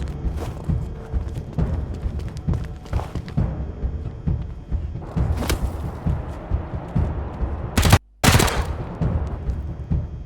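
Gunfire in the post-apocalyptic video game Wasteland 3: scattered game shots and bursts over a steady background, with a sharp loud crack near the end.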